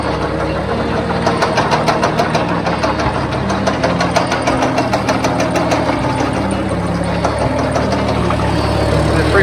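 A farm tractor engine running steadily with its power take-off engaged, a loud, close, even mechanical drone with a rhythmic knocking pulse that holds throughout without any talk.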